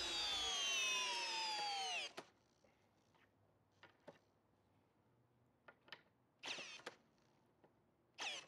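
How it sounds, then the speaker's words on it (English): A Milwaukee M18 drill on a High Demand 9.0 Ah battery, set to speed 1, drives a 1/2 inch lag screw: a loud motor whine drops in pitch as it struggles and stops, followed by a few sparse clicks and knocks. "this drill struggles to do this test in speed 1"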